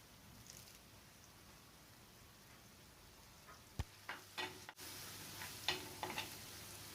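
Crushed garlic, shallots and curry leaves sautéing in oil for chena mezhukkupuratti: a faint low hiss, then a few sharp pops before the sizzle swells louder and steadier, close up with no talking.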